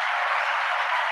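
An audience applauds a guest in a short, steady burst of clapping, fairly faint and even throughout.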